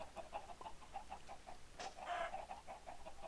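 Chickens in a Minecraft-style game clucking in a quick, repeated series of short faint calls, with one brief louder squawk near the middle and no talking.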